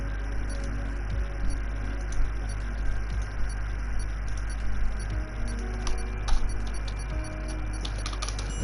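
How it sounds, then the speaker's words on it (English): Rapid keyboard typing during a PS4 racing league stream setup, faint irregular clicks running under a steady low hum, with a few sharper key taps standing out. "You might have heard me typing it away there."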